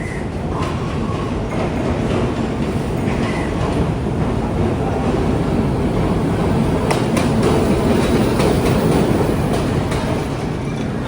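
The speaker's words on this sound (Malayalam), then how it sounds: "ഇതേ ട്രെയിൻ വരികയാണ്." A Sri Lanka Railways coastal line train rolls into a station near Colombo with a loud, steady rumble and rattling wheel clatter, a few metallic clanks rising above the continuous roar.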